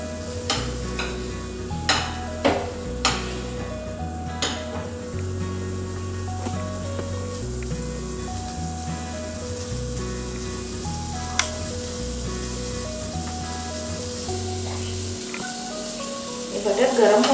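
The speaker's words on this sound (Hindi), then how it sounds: "ये बटर गरम हो रहा है" Two spoonfuls of butter heat and sizzle in a pan for pav bhaji, a soft continuous frying hiss running beneath louder background music.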